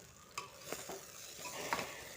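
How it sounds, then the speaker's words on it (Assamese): Rice for khichiri fries in a pan with a faint sizzle. A few soft scraping stir strokes sound up close and quietly, with no voices. "এয়া চাউলখিনি দি ভাজি আছিলোঁ, ভাজি হৈ গ'ল আৰু অলপ ভাজিলোঁ"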